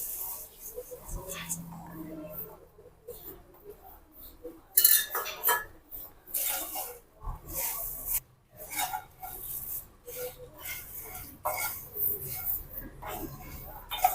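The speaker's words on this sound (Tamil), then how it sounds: "இப்போ நம்ம பொரிய கொதிக்கலாம்" Puffed rice being tossed and stirred with chili in a pan for a spicy masala pori snack, giving a steady dry rasping, scraping rattle with brief metallic clinks, continuous and fairly close throughout.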